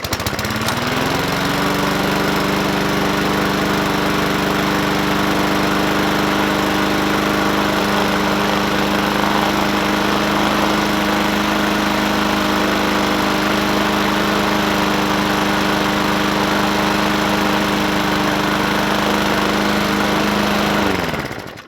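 A Bolens 21-inch push lawn mower engine, worn and in poor condition, runs loud and close at a steady, buzzy roar for about twenty seconds, its pitch holding almost constant before it cuts off abruptly.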